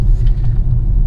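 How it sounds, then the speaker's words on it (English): Twin-turbo V8 of a 2021 Mercedes-AMG GLC 63 Coupe SUV giving a loud, close, deep rumble that holds steady through the whole moment. "Now this car, like I said, has a twin turbo V8, you know, in a small mid-size SUV."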